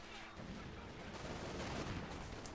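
Machine gun fire in the strategy game Company of Heroes 2, a faint, distant-sounding stream of rattling shots and battlefield rumble that runs steadily throughout.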